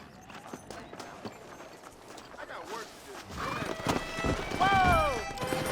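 Horses galloping in the western video game Red Dead Redemption, with steady clip-clop hoofbeats that grow louder and closer, a horse's whinny near the end, and a voice calling out briefly over the herd.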